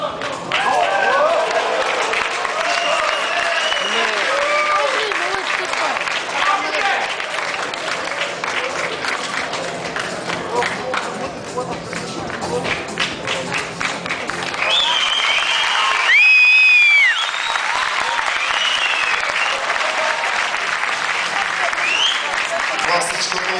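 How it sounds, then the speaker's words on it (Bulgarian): Sustained audience applause and cheering for a 130 kg bodybuilder's guest posing routine at a 2008 show, a dense steady roar of clapping throughout with a brief louder burst near the end, mixed with crowd noise. "Аплодисменти за Митко Димитров."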